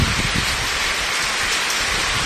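Heavy rain pours down in Abohar, a dense, loud, unbroken hiss of falling water with no pauses and no voices.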